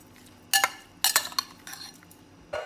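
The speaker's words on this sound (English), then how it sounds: "Mix, mix, mix." Chicken marinade with soy sauce, chili sauce and spices is stirred in a bowl, bursts of scraping, clattering utensil-on-bowl strokes coming in quick irregular clusters, close and fairly clear.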